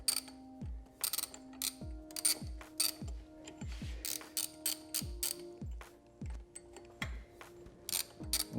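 Ratchet wrench clicking in repeated bursts of rapid pawl ticks while loosening a nut on a Subaru STI alternator cover, close and fairly quiet, with no voices.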